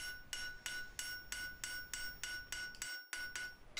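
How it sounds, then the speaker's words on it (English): A hammer rings out in a steady rhythm, about a dozen bright metallic strikes of the hammer's flat face on hot iron on an anvil, close and evenly spaced, while forging a Suffolk latch. "I like to dress the cusp with the flat face of my hammer"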